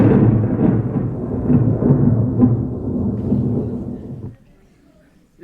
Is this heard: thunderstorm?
yes